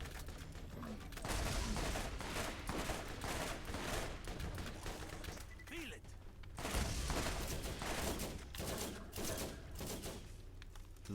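Gunfire in the video game Borderlands, dense rapid rifle bursts firing almost continuously and loudly throughout, with brief lulls between volleys.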